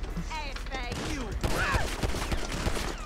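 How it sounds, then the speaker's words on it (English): Gunfire in GTA 5 during a police patrol in the Vinewood hills, a dense fusillade of close shots running steadily through the clip while voices shout underneath. "Why are you shooting at me?"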